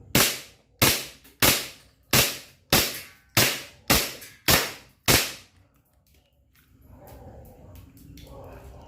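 An airsoft gun fires BBs at a homemade DIY target: eight sharp, loud shots in a steady, evenly spaced rhythm, followed by a few seconds of quiet room noise.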